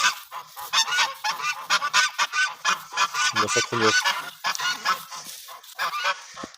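Three farmyard geese honk loudly and repeatedly at close range in quick, uneven bursts, with a person speaking briefly among the calls.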